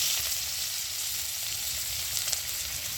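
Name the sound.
chopped onion frying in hot oil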